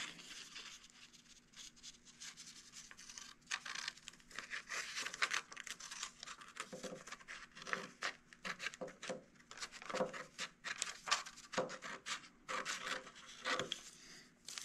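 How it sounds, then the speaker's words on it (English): Scissors snipping through folded paper for a large seasonal craft cutout, a steady run of crisp rasping cuts and rustling paper close by, no voices. "take your scissors and you'll cut that out"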